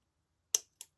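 Two quick, crisp scissor snips through scrap fabric for a handmade Christmas card, close and isolated in quiet, the second cut slightly softer than the first.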